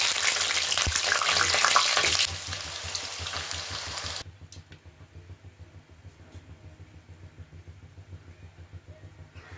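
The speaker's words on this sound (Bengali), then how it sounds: "আগে থেকে কেটে রাখা আলুটাকে ভালো করে ভেজে নেব" Cut potatoes fry in mustard oil in a kadai, a loud dense sizzle up close that drops sharply midway to a quieter, steady bubbling hiss, with faint stirring scrapes.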